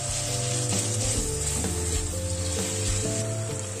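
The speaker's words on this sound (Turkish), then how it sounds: "Kıymamızı ekledik. Şimdi rengi dönene kadar karıştırıyoruz." Minced meat frying in oil in a pan and being stirred until it browns, a loud, continuous close sizzle with a steady crackle and soft scraping of the utensil throughout, with no one talking.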